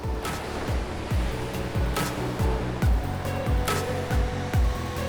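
Wind gusts across a beach beside the dunes on the Costa da Morte, a steady blustery rush with regular low thuds that sound like footsteps on sand.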